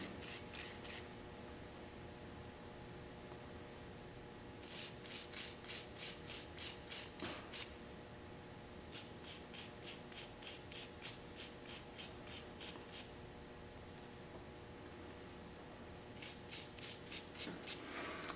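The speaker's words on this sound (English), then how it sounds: "These got to clean very good. Wire brush everything down." Wire brush scrubbing metal chassis parts of an EH Scott Philharmonic radio clean, in bursts of rapid rhythmic back-and-forth strokes with quiet pauses between, close and fairly faint, no talking.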